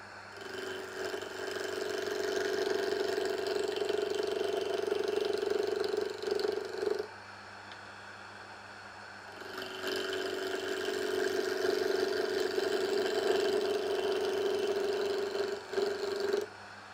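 Wood lathe spinning steadily while turning a Cypress pine table top, a close, even mechanical whir with a strong hum that drops away for a couple of seconds mid-way and then returns.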